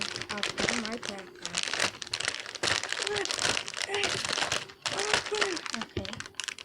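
Crinkly plastic wrapper of a Grossery Gang toy pack being torn open and crumpled up close, loud continuous crackling with brief pauses.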